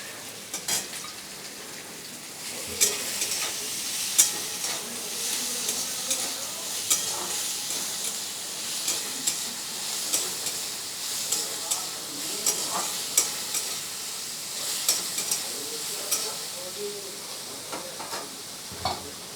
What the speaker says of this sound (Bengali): পেঁয়াজটা হালকা ভাজা হয়ে গেছে ওর মধ্যে আমি শশা কুচিয়ে রাখা দিয়ে দিলাম